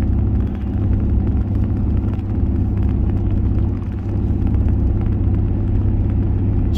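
A 2022 Ram 2500 with the 6.7 Cummins diesel climbs a steep grade while towing 16,000 lbs, holding fourth gear. Its heavy, steady low engine drone rumbles continuously from inside the cab, with no talk.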